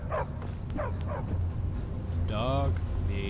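A dog in Skyrim gives a couple of short barks and a whining, yelping cry over steady low game ambience, with a voice heard briefly.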